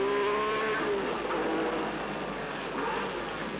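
A 1978 Alpine Renault race car at Le Mans accelerates, its engine note rising in pitch as it pulls away, steady and moderately distant, with no voices.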